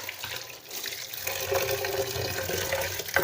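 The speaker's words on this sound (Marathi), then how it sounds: "दोन तीन पाण्याने स्वच्छ एकदम धुवून घ्यायचे" Soaked sorghum grains are washed in running water in a sieve, with a steady splashing tap flow rising and swirling, close and continuous with no talk.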